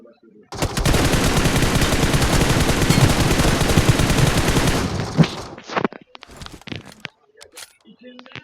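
Video game gunfire: a sustained burst of rapid automatic shots for several seconds, loud and dense, then stopping abruptly, followed by scattered clicks and rattles of equipment.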